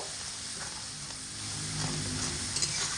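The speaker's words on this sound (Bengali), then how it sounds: "এবার খুব অল্প করে একটু জল দিয়ে দেব করে মশলাটা মিডিয়াম আঁচে রেখে কষিয়ে নেব" Spice masala sautéing in a pan over medium heat with a splash of water added, giving a steady, close, broadband sizzle that swells slightly near the end, with no talking.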